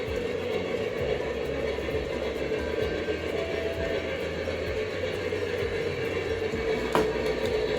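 Model trains run around the tracks of a home layout, giving a steady, quiet mechanical whir and rattle from a distance, with one brief click near the end.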